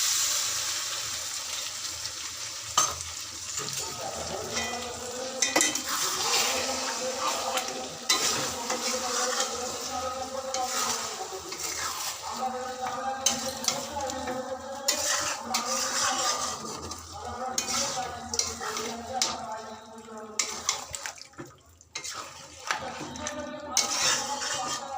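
A spoon stirring a sauce mixture of cornflour, Maggi, tomato sauce and soy sauce in a cooking pan, with continuous scraping and clinking over a soft sizzle, close and steady throughout.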